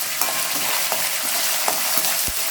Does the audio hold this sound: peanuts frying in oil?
yes